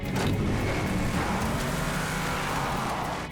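A nitro-boosted stunt car from the action film Faster roars loudly and steadily up close, a dense, continuous engine rumble that holds for the whole few seconds with no voices.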